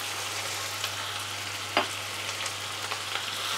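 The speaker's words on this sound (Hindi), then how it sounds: "प्याज और लहसुन को हम फ्राई कर लेंगे कलर चेंज हो जाने तक।" Chopped onion and finely chopped garlic fry in a pan with a steady, even sizzle, a soft stir or scrape now and then, close and without talk.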